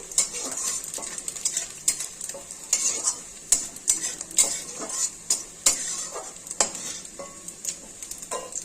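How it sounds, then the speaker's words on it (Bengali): Shrimp frying in oil in a pan for a Bengali jackfruit-and-prawn curry: steady close sizzle with repeated scraping and clinking of a spatula against the pan, no voices. "চিংড়ি মাছগুলো ভাজা হয়ে গেছে, এবার তুলে নিচ্ছি।"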